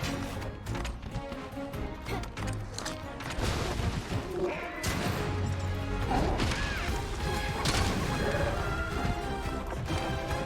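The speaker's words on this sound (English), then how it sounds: "Explosion!" Cluster shot explosions from a bow gun in the video game Monster Hunter Rise, a dense run of loud crashing blasts and impacts layered over game music and effects, continuous throughout.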